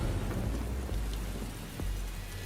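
Rain pours steadily in the Mortal Kombat 11 fighting game, a dense hiss layered with low rumbling thunder and a sharper crack near the middle, continuous and fairly loud with no voices.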